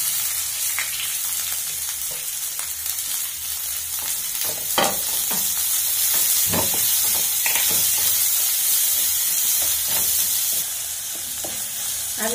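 Sliced onions and green chilies fry in hot oil in a pan with a loud, continuous close sizzle and hiss, occasional stirring scrapes breaking through; no voices.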